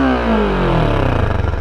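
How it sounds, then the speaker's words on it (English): A Kawasaki Vulcan 650cc cruiser engine runs through a stock exhaust with holes drilled in the muffler, revving with a falling then rising pitch, loud and close, ending in a throbbing burble, no talk. "So there's your stock exhaust sound of this bike with holes in the muffler."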